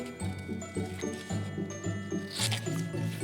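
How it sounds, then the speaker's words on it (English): Scissors cutting paper in a series of regular, close snips, soft and rhythmic, with a brief rustle near the end. "you're going to take your scissors and you're going to cut it out"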